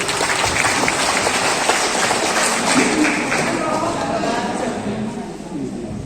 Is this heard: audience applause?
yes